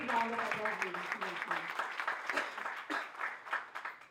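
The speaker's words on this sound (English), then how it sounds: "He deserves a big round of applause." An audience at a thought-leadership conclave in Goa breaks into sustained applause, heard close and filling the room, with a voice speaking briefly at the start.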